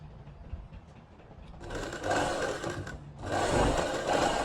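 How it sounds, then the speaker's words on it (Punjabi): A sewing machine stitches the seam of palazzo trousers. It makes two loud, steady whirring runs, the first near the middle and the second toward the end, separated by a short pause over a low background. "ਫਿਰ ਆਪਾਂ ਇੱਥੋਂ ਲਾ ਲੈਣੀ ਹੈ ਸਲਾਈ"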